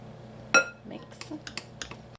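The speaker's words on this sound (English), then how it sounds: "add in 1/4 of your dry ingredients and mix this in" A utensil knocks against a bowl while dry ingredients are mixed into batter for coconut rolls, giving one sharp clink followed by several lighter scraping taps.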